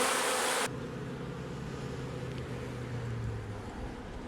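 Honey bees buzz steadily throughout a hive inspection, a continuous close droning hum with a brief louder broadband rush at the very start, then an even swarm tone that holds for several seconds without any talking.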